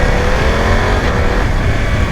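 A BMW F900 XR with a 900 cc twin engine pulls hard under acceleration, its loud, dense exhaust and wind roar close and continuous throughout.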